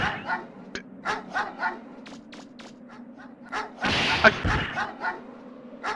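Dogs barking in the video game Mega Man Legends, a rapid series of sharp, loud yaps and barks in an irregular burst, with a denser clash of noise partway through.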